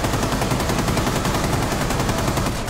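Rapid automatic gunfire from the video game Rainbow Six rattles continuously at moderate loudness, with no voices over it.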